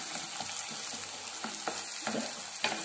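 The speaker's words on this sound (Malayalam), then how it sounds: "ഞാനിപ്പോൾ ഇതിൽ മൂന്ന് പ്രാവശ്യം ഇട്ട് ഫ്രൈ ചെയ്യുന്നുണ്ട്" Elephant yam pieces frying in hot coconut oil, a dense steady sizzle with scattered light taps and stirring clinks, close and continuous.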